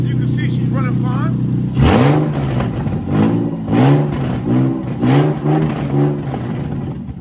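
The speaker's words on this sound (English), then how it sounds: "we got a good running motor right here for you." A 2004 Nissan 350Z's 3.5-litre VQ35DE V6 with a slight exhaust leak idles roughly and then revs repeatedly in rising, falling bursts, close by and raspy, with a steady whine underneath.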